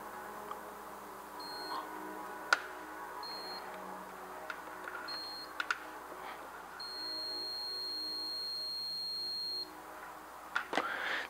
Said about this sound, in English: The idea behind the beep is it's supposed to be annoyingly beeping anytime there's high voltage at the output